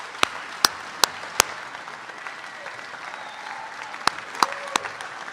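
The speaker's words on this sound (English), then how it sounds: "stand up and let's really give them a nice round of applause." Audience applause and a few sharp claps at an awards night for student athletes, honoring the athletes' families; scattered claps ring out over a steady wash of crowd noise, moderately loud and without talk.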